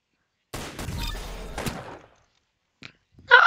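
Gunfire in a Roblox shooter game: a burst of rapid shots with a few sharper cracks, then silence, a short faint pop and a final loud hit at the end, with no talking.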